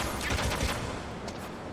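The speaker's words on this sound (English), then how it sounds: "I get hit by a turret." Muffled bursts of turret gunfire in the video game Metal Gear Solid, a few quick low thuds over steady rumbling ambience, no talk.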